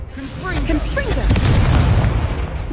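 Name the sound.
Confringo explosive spell cast in a wizard video game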